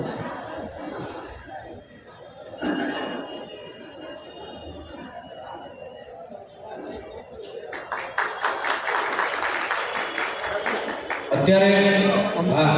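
An audience claps at a community get-together of the Zalavad Valand caste trust in Ahmedabad. Talk and chatter come first, then a stretch of dense clapping that grows into a louder burst near the end.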